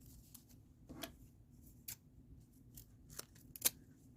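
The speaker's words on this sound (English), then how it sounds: "So we're going to cut these to be about 5 inches long." Scissors snip paper quilling strips in a short series of crisp, close cuts, spaced unevenly with quiet pauses between them.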